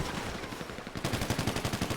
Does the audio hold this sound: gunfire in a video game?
yes